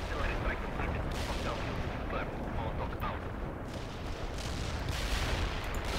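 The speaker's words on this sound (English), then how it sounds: "Just waiting for the artillery strike to be done" Distant artillery strike in the World in Conflict video game, a steady muffled rumble of shelling and gunfire rolling on without pause at low level, with faint talk mixed in.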